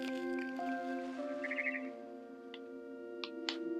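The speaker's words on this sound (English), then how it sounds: "Then I heard chirping outside my window. Ah, bird. It was a barn swallow going back to her nest." A barn swallow chirps outside a window in a video game, giving a few short, bright, clear calls that stand out over a steady tonal musical backdrop.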